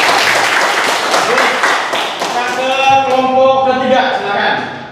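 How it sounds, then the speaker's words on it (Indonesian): Classroom applause breaks out in a burst of clapping from a group of students, fading after a couple of seconds as a voice starts speaking. "Cukup, kasih aplaus dong"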